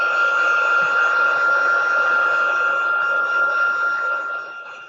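A hair dryer blows over watercolor ink on a stamped greeting card, a loud steady whine held close and constant for several seconds before tapering slightly at the end.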